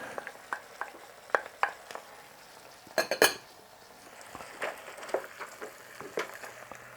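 Chunks of potato and carrot drop into a pan for Filipino lumpia filling, giving scattered clinks and soft thuds of utensil on metal, with one louder clattering burst midway, all fairly quiet and with no talking.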